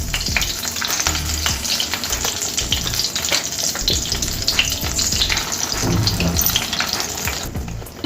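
Ground paste sizzles and fries in a pan with homemade butter for a mixed vegetable curry, a steady, close crackling hiss with stirring scrapes throughout.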